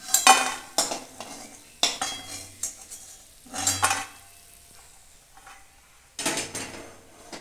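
Lentil dumplings (bori) fry in mustard oil in a pan, with a soft sizzle broken by several loud, irregular bursts of scraping and clattering as they are stirred, and no voices.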